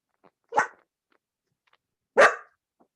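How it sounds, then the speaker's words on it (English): A pet dog barks twice, close and sharp, with a pause of over a second between the barks, in an otherwise quiet room during a playground planning meeting. "I apologize, that's my dog."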